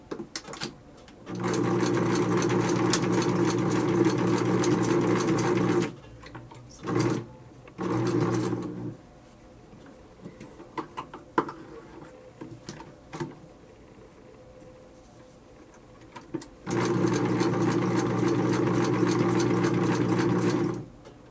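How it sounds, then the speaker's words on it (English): A domestic sewing machine runs in steady bursts while stitching the shoulder seams of a Burda 6315 garment, with a long motor run, two short spurts, a pause filled with soft handling noises, then another sustained run. "I'm just going to sew this together at the shoulder seams and then put the sleeves in"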